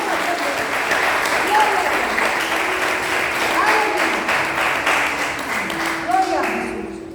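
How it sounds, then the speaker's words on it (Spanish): A church congregation breaks into sustained, loud applause for the Lord, thick and continuous, while a voice speaks over the clapping. "Denle la aplauso al Señor"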